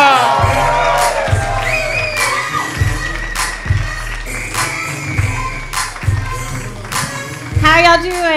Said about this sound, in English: Cheer all together.